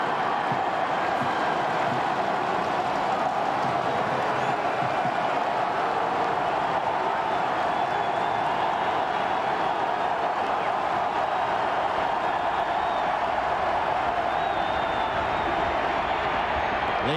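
A loud stadium crowd roars steadily at the 2005 Florida vs. South Carolina college football game, a dense, unbroken wall of cheering that holds at full volume for the whole stretch.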